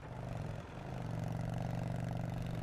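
A truck engine idles in the war video game Foxhole, a quiet, steady mechanical hum with a faint rhythmic clatter, holding constant throughout with no talking.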